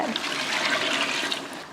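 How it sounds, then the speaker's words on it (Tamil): Water poured into a large pot of chicken biryani with lemon juice, a steady close rushing pour lasting under two seconds without any talk. "அடுத்து தண்ணி சேர்த்துடலாம்"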